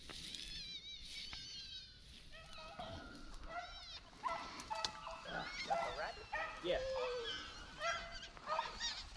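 A hunting dog yips and whimpers excitedly during a swamp rabbit hunt in the Louisiana basin, close and busy, with people talking at times.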